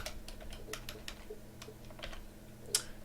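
Computer keyboard typing while Java code is entered for a Greenfoot game lesson: a quick, irregular run of soft plastic keystrokes, moderately close, with one sharper, louder click near the end and no talking.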